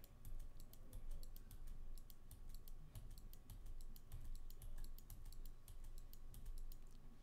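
Keyboard keys and mouse buttons clicked over and over in a steady, quick rhythm for several seconds, the taps close and crisp with no voices.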